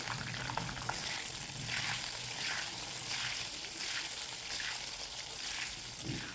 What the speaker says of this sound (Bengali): এখন পটলগুলোকে ভেজে নিতে হবে।